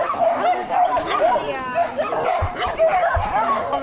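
A puppy at an animal sanctuary gives short yips and whimpering whines close by, a few soft barks and cries scattered across a few seconds over low background noise.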